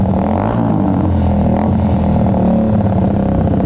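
A motorcycle engine idles and revs steadily up close for the whole stretch, a dense, continuous mechanical drone with slight rises in pitch and no speech over it.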